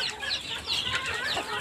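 Native chickens cluck and chatter steadily at close range while being fed a cheap mix of coconut pulp and a little feed, with busy overlapping calls and no talking.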